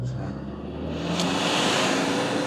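A new Toyota Prado 250 LandCruiser with an 8-speed automatic accelerates as it takes off, a steady engine drone rising gradually in pitch and loudness over a couple of seconds.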